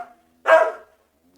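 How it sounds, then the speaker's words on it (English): A middle-sized dog in a children's audiobook gives a single clear bark, close and loud, between pauses of silence, with the start of another sound at the very end. "A middle-sized dog called Pepper"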